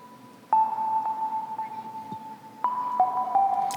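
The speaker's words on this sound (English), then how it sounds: "with Chillout synths, it's definitely they are drenched in reverb" A chillout sine lead synth drenched in heavy reverb plays soft, sustained tones that change pitch a few times, each note ringing on into a long ambient wash. The level is fairly quiet and no one talks over it.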